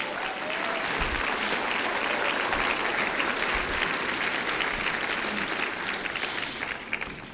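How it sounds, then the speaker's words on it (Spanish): A church congregation breaks into sustained applause, a dense, even wash of many hands clapping together that carries on at a steady level for several seconds, without speech. "Dale un aplauso a Cristo."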